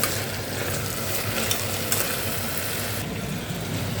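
Vegetables frying in hot oil for vegetable biryani give a dense, continuous sizzle that stays close and fairly loud throughout, with faint stirring and no voices.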